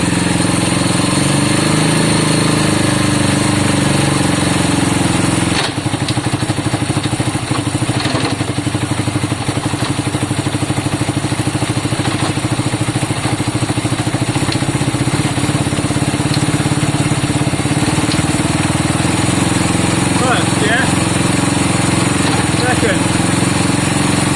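A Honda CB200 motorcycle engine running loud and close, a continuous rough idle with steady mechanical clatter through the whole stretch after its first start-up attempt, no voices over it.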